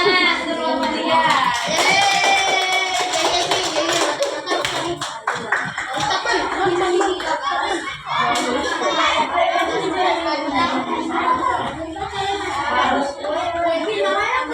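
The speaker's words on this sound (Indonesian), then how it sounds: "Tepuk tangan untuk Muhammadiyah." A classroom full of children bursts into loud, sustained clapping for Muhammadiyah, a dense patter of many hands with scattered voices and chatter mixed in.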